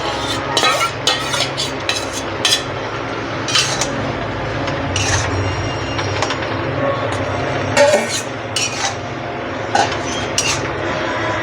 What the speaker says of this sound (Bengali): আমি এবার বেগুনটা আর চিংড়ি মাছটা দিয়ে দেব।